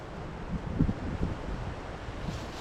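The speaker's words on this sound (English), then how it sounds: "Man, that wind is a little cold" Cold wind blowing outdoors on a wooded trail, a steady low rush of gusts buffeting the microphone with no talking.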